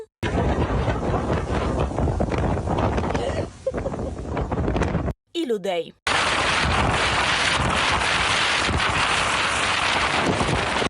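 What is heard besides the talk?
strong gusting wind during a storm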